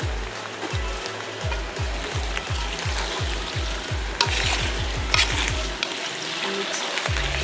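Chicken and vegetable macaroni with soy sauce being stir-fried, a close steady sizzle with a fast run of rhythmic stirring knocks against the pan, no talking.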